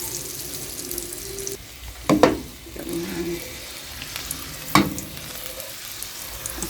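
Curry powder and garlic seasoning burn and sizzle in a hot iron pot, a steady crackling fry with a couple of sharp clattering bursts, likely from stirring.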